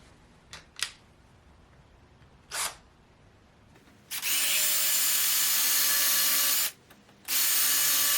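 Power drill boring a pilot hole for a screw during a swivel rocker recliner base repair, a few short whirring bursts followed by a long steady high whine, a brief pause, then drilling resumes, loud and close.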